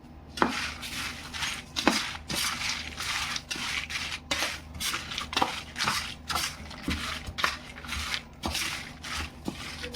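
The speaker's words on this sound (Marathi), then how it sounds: "हे सगळं आपल्या साहित्य आता मिक्स करून घेऊ" Repeated scraping and tapping in a bowl, irregular clinks and scrapes of a utensil stirring salted curry leaf chutney ingredients, close and fairly loud.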